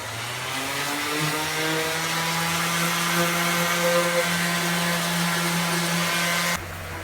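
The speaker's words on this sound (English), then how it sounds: "Now to sand off the new edges of the one side and the other." A power sander running on the edges of a wooden shelf, a loud steady motor whine with a slowly shifting tone that holds for several seconds, then stops abruptly.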